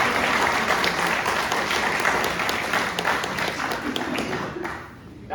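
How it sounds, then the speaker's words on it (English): An audience at a master plan presentation gives a round of applause, dense and loud clapping from many people that holds steady and then thins out near the end. "let's give her a round of applause"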